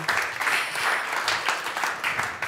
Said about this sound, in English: Please, warm hand of applause for these fine people.